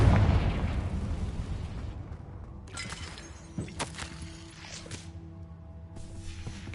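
A Confringo spell explosion in Hogwarts Legacy, a loud booming blast that decays into a rumbling tail, followed by scattered sharp pops and shattering bits over quieter game ambience.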